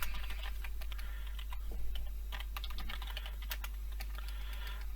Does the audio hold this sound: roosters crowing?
no